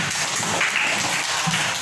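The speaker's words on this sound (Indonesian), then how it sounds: "tepuk tangan dulu untuk kalian" Students in an Indonesian school classroom clap their hands together in a steady, dense round of applause that holds at an even level throughout, with no talking over it.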